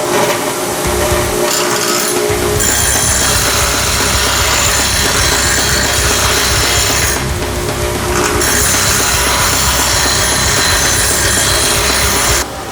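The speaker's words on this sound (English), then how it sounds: "this right here is just a belt sander just to clean up the grindings and do the final touches" A belt sander cleaning up grind marks on fabricated steel parts for an old-school bobber motorcycle build, giving a loud, continuous abrasive roar up close that dips briefly a couple of times.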